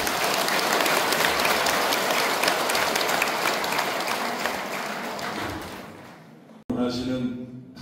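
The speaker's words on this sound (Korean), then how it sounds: "수고하신 우리 형제 여러분께서 뜨거운 찬달 박수 드립니다." A congregation at a Buddhist dharma service gives warm applause, a dense roar of many hands that gradually fades, then cuts off abruptly before a voice begins speaking.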